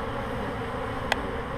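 A honeybee swarm clustering around its queen gives a dense, continuous buzzing drone close by, steady throughout with one brief sharper tick.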